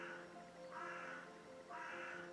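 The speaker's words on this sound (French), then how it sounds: "Il y a un corbeau qui a décidé de s'exprimer aujourd'hui?" A crow calls in a few harsh, drawn-out caws, roughly one per second, each fairly loud and clear over a steady background hum, with no talking.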